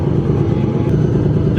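A Nissan 240SX engine starts and runs, a loud, steady, close rumbling idle that fills the brief moment with no voices.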